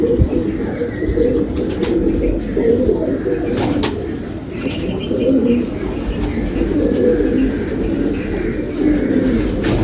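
Breeding pigeons coo close by in a loud, continuous chorus of low throaty calls, with occasional lighter chirps and faint rustling mixed in.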